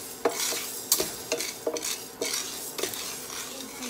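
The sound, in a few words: stirring mung bean coconut stew in a pot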